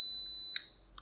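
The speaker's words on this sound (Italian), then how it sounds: "viene emesso un beep sul posto esterno" A single loud, pure electronic beep comes from the outdoor station of an Ezviz HP7 2K smart video intercom as the door release opens, holding steady for about half a second before a soft click.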